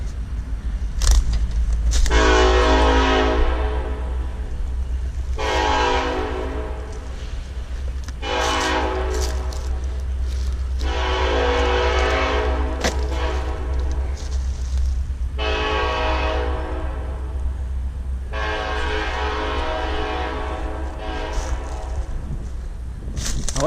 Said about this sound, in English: Oh, that train's just loud, huh?